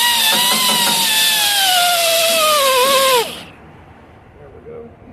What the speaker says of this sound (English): I'm going to go ahead and hit it with the sander